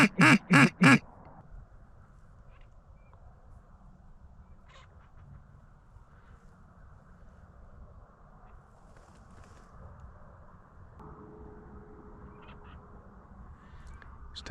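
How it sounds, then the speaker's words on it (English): Several loud, close duck quacks burst out in a quick cluster at the start from green-winged teal on a public-land hunting marsh, then give way to quiet ambient background. "There's definitely some green wings calling around here."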